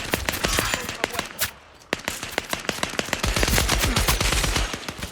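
Rapid machine gun fire from the battle royale video game Scavengers rattles out in dense, loud bursts, broken by one short pause before the shooting resumes even heavier.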